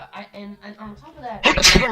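A single loud, sharp sneeze bursts out right after a stretch of steady casual talk, cutting in abruptly near the end.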